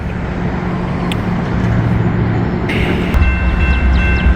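An Amtrak train rumbles past the Beach Street crossing, a steady low roar of wheels and engine that builds louder toward the end, with a faint high crossing-bell tone ringing above it.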